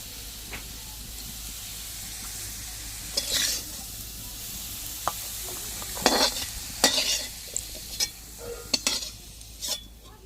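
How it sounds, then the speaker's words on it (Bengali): Flattened rice (chira) frying in oil in a pan, a soft continuous sizzle with scattered sharp stirring scrapes and clinks, close up and without speech. "সেই একই তেলে আমি চিড়াটা দিয়ে দিচ্ছি"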